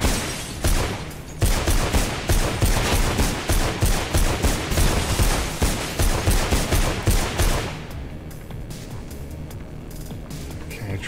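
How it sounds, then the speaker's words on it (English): Rapid machine gun fire in the first-person parkour game Mirror's Edge, a dense, loud burst of repeated shots running for several seconds before cutting off into quieter game ambience. "Machine gun."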